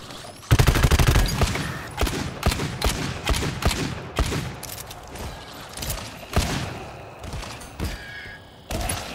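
Automatic weapons fire in the cooperative shooter GTFO, with loud, rapid bursts of gunshots and sharp single cracks recurring irregularly throughout, close and punchy.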